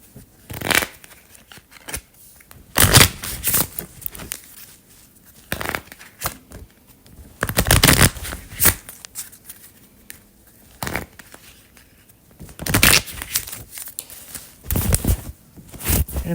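A deck of oracle cards being shuffled by hand in repeated bursts of riffling and flapping, each a second or two long, separated by quieter handling pauses, close and clear with no talking.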